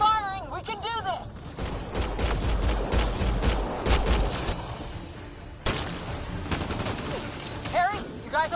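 Sustained video-game gunfire from Mass Effect Andromeda, rapid overlapping shots and heavy booms rolling through a combat scene, with voices shouting over the battle.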